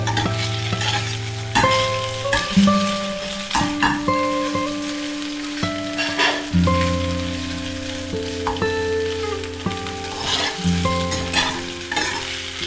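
Noodles fry on a high flame for chicken manchow soup, a continuous crackling sizzle broken by repeated scraping and clanking as they are stirred and tossed in the pan, with a steady background hum throughout.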